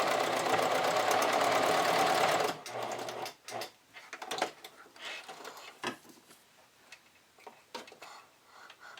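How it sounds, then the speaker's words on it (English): A sewing machine runs a straight stitch on a bra at a loud, fast, continuous whir for a couple of seconds. Then it stops, leaving scattered clicks and ticks of handling the fabric and machine. "take it off zigzag if you're doing a straight stitch to apply it, and back tack at the beginning and end"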